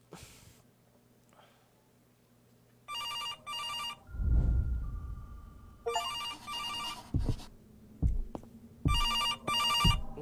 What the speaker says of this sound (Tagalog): May telepono.